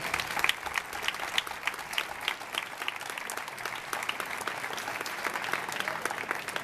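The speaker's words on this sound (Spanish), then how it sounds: "Un aplauso para ellas." A festival crowd applauds steadily at the opening proclamation of the Nuestra Señora del Consuelo village festivities in Torremenga, Cáceres: dense, even clapping from many hands, moderately distant, continuing throughout with no talk over it.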